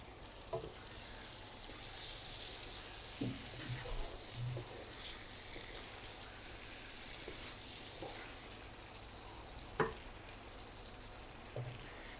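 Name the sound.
liver pieces frying in spice paste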